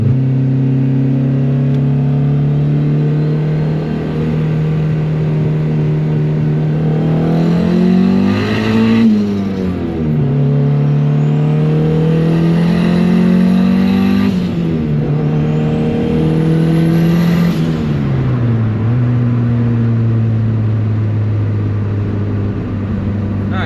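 A turbocharged Honda Civic accelerates hard in first gear with its tires spinning. The loud, close engine drone rises and falls through repeated revving surges, with tire squeal over the top.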